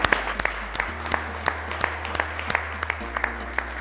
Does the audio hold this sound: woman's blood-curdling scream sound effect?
no